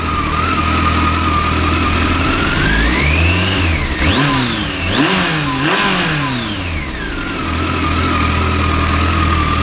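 Kawasaki ZX14 motorcycle engine warming up, a steady idle whose pitch swells upward into a couple of quick revs and settles back to a loud, continuous near idle, with no talking.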